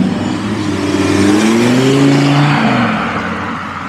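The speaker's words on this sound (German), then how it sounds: "RS3, 5 Zylinder, das ist wirklich Bombe." A tuned Audi RS3 five-cylinder engine revs hard under acceleration, its pitch climbing and holding, loud and close, then easing off near the end.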